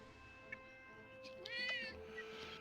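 A cat meows once under steady background hum and faint talk, a short rising-falling call in the middle of a quiet stretch.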